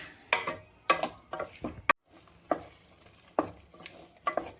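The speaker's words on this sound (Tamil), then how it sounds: "கொஞ்ச நேரம் அப்படியே சிம்லையே வச்சு வதக்கிடலாம்" Tomatoes cooking down into a thick pickle paste in a pan on a low simmer: a soft bubbling sizzle with several distinct spoon scrapes and taps at irregular intervals, close and fairly quiet.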